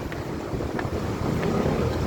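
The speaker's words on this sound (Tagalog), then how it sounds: "Malakas din ang hangin dito guys" Strong wind buffets the microphone in a steady low roar, gusting slightly louder toward the end, with no voices.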